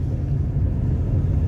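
Heavy traffic on a Brazilian highway makes a loud, steady low rumble of passing vehicles with no voices over it.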